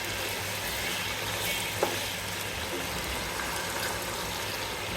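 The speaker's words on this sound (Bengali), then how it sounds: "আমি বেরেস্তার তেলে মাংসটাকে ভেজে নেব" Chicken pieces fry for a chicken biryani in oil left from frying onions, giving a steady, close, even sizzle with no one talking.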